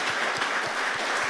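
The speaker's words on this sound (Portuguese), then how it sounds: "Você pode dar um aplauso ao Senhor por isso?" Church congregation applauding the Lord, a dense steady wash of many hands clapping throughout, fairly loud and close, with faint low thumps pulsing underneath and no clear talk.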